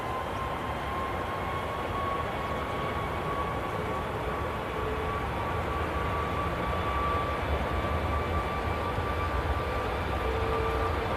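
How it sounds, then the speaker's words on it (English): A Boeing 737 MAX's jet engines spool up at Manchester Airport, producing a constant, moderately distant rumbling roar with a thin steady whine and no talking. "this Max is now spooling up"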